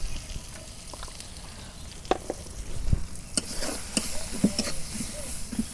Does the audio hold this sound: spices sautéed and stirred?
yes